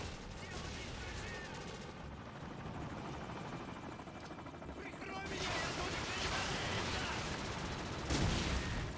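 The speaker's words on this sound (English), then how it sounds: "Enemy helicopter inbound." Enemy helicopter in a video game team deathmatch, its rotor drone running steadily through the clip beneath heavy bursts of gunfire, with a voice speaking over the action.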